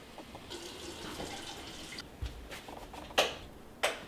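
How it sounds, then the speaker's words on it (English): Tap water runs into a sink for hand washing at home, a soft steady splashing with a couple of sharper clinks near the end. "Oh, got to wash my hands."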